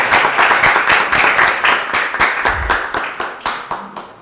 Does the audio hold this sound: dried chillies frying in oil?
no